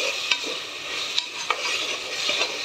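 A spoon stirs drumstick curry in a hot pan over a gentle sizzle, with a few sharp scrapes and taps against the metal in under three seconds and no talking.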